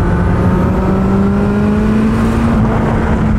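A 300 hp turbocharged Hayabusa motorcycle pulls hard in fifth gear, its engine a loud, close, continuous drone rising steadily in pitch with a faint turbo whine over wind rush.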